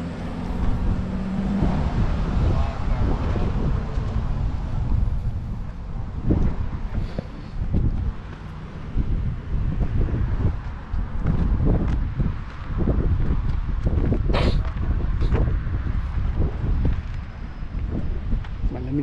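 Cold wind blows hard at a beach, a continuous loud rumbling buffet on the microphone with gusty surges throughout, while people talk faintly underneath.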